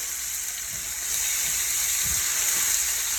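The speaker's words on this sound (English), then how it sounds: "Going to saute the green pepper and the onion" Green pepper and onion sauté in a pan with a steady, close, hissing sizzle that grows slightly louder partway through, along with a few faint low thumps of stirring.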